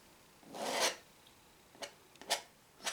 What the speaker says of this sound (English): Scraping the ridges off as I go.